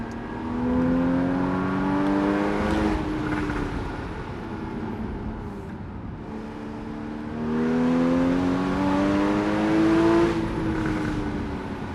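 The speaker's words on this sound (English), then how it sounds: "I'm enjoying this road in my 2013 981 Porsche Boxster" A 2013 Porsche Boxster 981 cruising along the Great Ocean Road, its engine note rising and falling through two long swells of acceleration, steady and close throughout with no talking.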